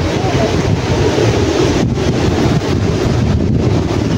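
Steady wind buffeting the microphone over a broad wash of sea waves at the seashore, loud and continuous without clear breaks, with no voices heard.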